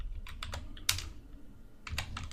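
Quiet, close keystrokes on a computer keyboard as a git command is typed, a quick irregular run of separate clicks with one sharper tap, no voice present.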